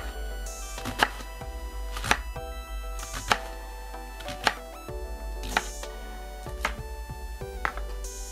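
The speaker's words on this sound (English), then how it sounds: "then I go across this way as thin as I possibly can to give me some good, nice thin strips" A knife cuts vegetables into thin strips for egg roll bowls, giving a steady series of sharp taps on a cutting board, about one per second, close and clear with no talking.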